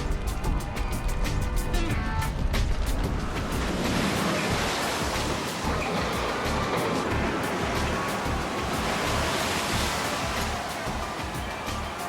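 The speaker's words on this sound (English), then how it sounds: "her hull hit the water for the first time in a spectacular launch" Hull of the icebreaker Mackinaw striking the water at its launch: a loud, sustained crashing wash of surging water and spray, broad and roaring throughout, easing slightly toward the end.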